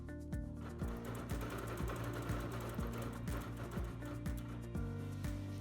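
A Bernina sewing machine stitches a quilt in a fast, steady mechanical hum with rhythmic pulsing, running continuously and close by without talk.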